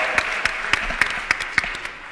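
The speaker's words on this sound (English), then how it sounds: "Let's give them a round of applause." Audience applause at a startup pitch competition at ArabNet Beirut 2013, a steady patter of many hands clapping at moderate distance, with no voices over it.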